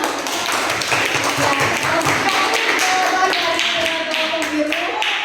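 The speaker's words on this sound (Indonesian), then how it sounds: "Ya, tepuk tangan dong." Scattered clapping from a classroom audience, a steady patter of many hands with voices talking and murmuring underneath throughout.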